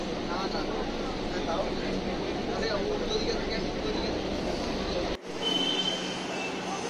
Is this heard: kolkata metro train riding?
yes